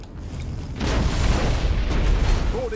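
Nova cannon blast in the space strategy game Battlefleet Gothic: Armada 2, a sudden loud boom that swells into a sustained rumbling roar lasting several seconds, with no talk over it.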